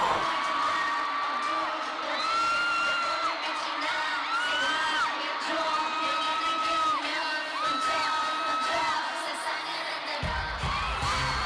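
A big concert crowd at a show in Manila cheers and screams continuously, a dense wall of high-pitched whoops and yells that swells in waves. Some voices seem to sing along, and the roar drops away near the end.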